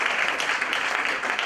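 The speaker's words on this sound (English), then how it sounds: "So we give a big round of applause to Pogalendi for having this initiative and idea." Audience applause at a panel discussion, a dense wash of clapping held steady and fairly loud from start to end, with no clear voices over it.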